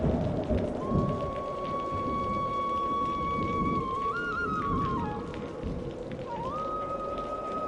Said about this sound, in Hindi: धीरे धीरे बारिश और तेज हो गई,